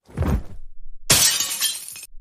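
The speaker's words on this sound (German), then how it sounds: "Das klang so, als wäre etwas zerbrochen." Something breaks in a kitchen: a brief dull crash and then a bright burst of shattering glass with scattered pieces falling, loud and close, with no voices.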